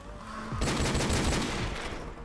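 A sudden loud burst of rapid gunshots in Call of Duty MWR, a quick volley of cracks erupting after a brief quieter lead-in and continuing to the end, close and forceful.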